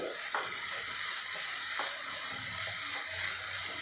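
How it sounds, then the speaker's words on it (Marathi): Chopped onion with salt sautés in a pan, giving a steady, even sizzle with occasional soft stirring scrapes, heard alone and at moderate closeness. "बघा अशा पद्धतीने आपल्याला परतून घ्यायचं आहे कांदा"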